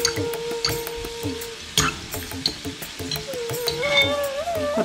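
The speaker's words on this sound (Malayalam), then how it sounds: "അപ്പോൾ ഇനി മീഡിയത്തിൽ വെച്ചിട്ടാണ് ഫ്രൈ ചെയ്യുന്നത്." Fried modakam, a Vinayaka Chaturthi sweet, cooking in hot oil on medium heat, a close, steady sizzle broken by utensil clatter and stirring knocks.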